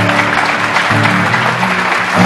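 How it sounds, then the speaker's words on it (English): Theatre audience applause after a playwright reading at the Millennium Stage, a steady wash of clapping heard over sustained instrumental music tones. "Let's give them all a round of applause."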